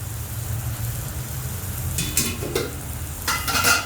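Carrot halwa being stirred in a pan, with a low steady frying hiss under a few soft scraping strokes of a spoon, close and moderately loud, with no talking.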